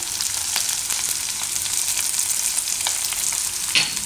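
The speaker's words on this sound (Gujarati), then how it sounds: "મરચાંને આપણે થોડીક વાર આ રીતે પકાવી લેવું" Green chilies cooking in hot oil for a Gujarati carrot-and-chili sambharo, giving a steady, close, bright hiss of frying with occasional small crackles and no talking.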